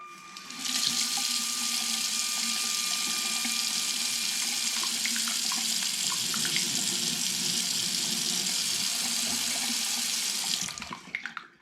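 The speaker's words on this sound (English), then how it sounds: "this is it just turning on the water" Tap water gushes from a faucet switched on by a LEGO-built touchless mechanism, a steady splashing stream that starts abruptly and runs about ten seconds before cutting off, with faint mechanical whirring at the start and no speech.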